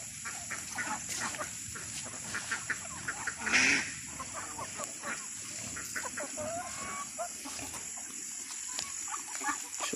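Chickens clucking and calling on a farm, a steady scatter of soft clucks over constant insect-like hiss, with one brief louder squawk partway through; no speech.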